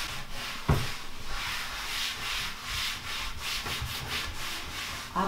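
A damp cloth wipes a greasy kitchen cabinet coated with baking soda, making close, repeated rubbing strokes in an uneven rhythm with a couple of light knocks.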